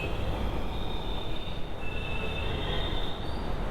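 A Lucknow Metro train rumbles past overhead at Transport Nagar station, continuously and loudly, wheels squealing in a high, sustained screech above the steady roar, with no voices.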